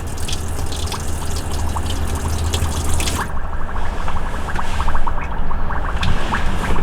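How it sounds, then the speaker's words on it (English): Water splashes steadily into a small campervan sink, a loud continuous rushing spatter close by that thins slightly partway through. "That's then going to allow us to run water through the sink."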